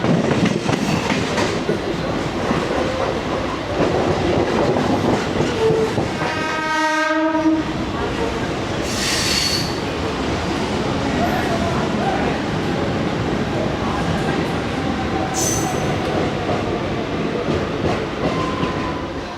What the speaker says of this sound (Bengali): তো দেখো আবার সাঁতরাগাছি ছেড়ে দিল আমাদের ট্রেন।